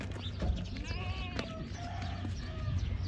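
A heavyweight goat bleats in several wavering calls, close by on a farm, over steady low background noise.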